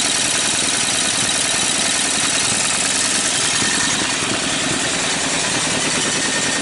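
An 18 hp Briggs & Stratton opposed-twin engine with dual carbs and dual exhaust runs at a steady idle, a loud dense rumble with rapid even firing pulses throughout, close to the microphone.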